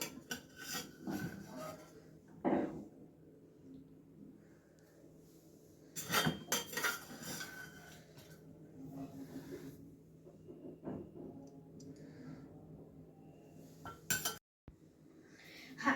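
Metal utensils scrape and clink against a plate as food is served, with a few louder clatters amid quieter rubbing sounds, close by.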